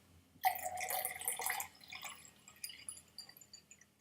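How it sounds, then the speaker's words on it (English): Water poured into a glass of whisky, a short splashing trickle followed by scattered drips and small clinks. It is faint and close, and no one talks. "I might as well pour me some more water"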